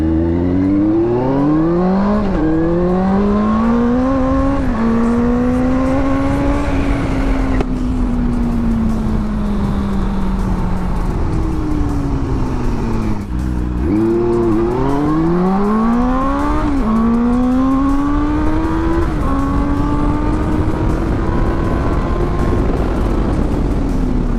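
A Benelli 600i motorcycle revs through its exhaust, a loud, close engine note whose pitch climbs and falls repeatedly over repeated throttle blips, with no talking.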